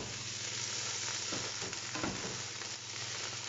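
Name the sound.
tomato paste being mixed in a frying pan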